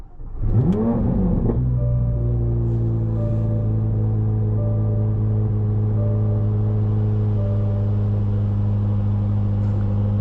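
2023 Chevrolet Corvette Z06 3LZ with a 5.5-liter naturally aspirated V8 revs briefly at startup, then settles into a loud, steady droning hum while driving, heard from inside the car.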